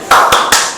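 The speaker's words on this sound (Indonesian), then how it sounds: "Jadi ice breakingnya tepuk semangat yes" Loud, close hand claps from a class doing the tepuk semangat clapping chant, with three sharp claps spaced evenly in quick rhythm.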